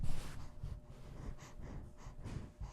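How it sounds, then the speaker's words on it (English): A person sniffs and snorts repeatedly right into a microphone, close, soft, airy bursts in an uneven rhythm over a low background rumble. "You just sniffing the mic."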